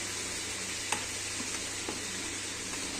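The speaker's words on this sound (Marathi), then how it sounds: "हे गरम असल्यामुळे चमच्याने मिक्स करून घेणार आहे" A spoon works hot oil into flour in a bowl, giving a faint, steady sizzling hiss with a few soft clicks of the spoon against the bowl.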